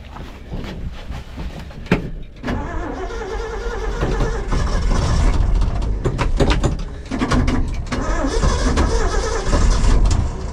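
An old Ford engine, just fitted with a rebuilt carburetor, cranks and catches with a brief lull before settling into a loud, steady, rough running drone, close by and continuous.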